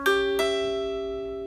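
A single plucked diminished chord rings out on a twangy mountain dulcimer, restruck once and left to decay slowly.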